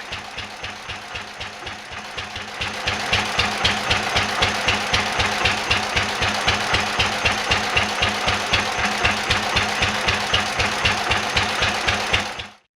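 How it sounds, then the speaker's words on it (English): An old McCormick Deering 6 HP Type M hit-and-miss single-cylinder engine with magneto ignition chugs with a steady, heavy rhythm, loud and close, picking up speed before cutting off abruptly at the end. "to get this engine turning fast enough to start it using the magneto"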